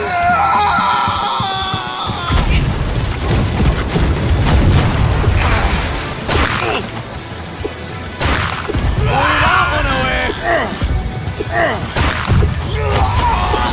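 Ship cannons firing in the pirate naval game Blackwake, heavy booms landing in irregular volleys with crashes and impacts, amid shouting voices.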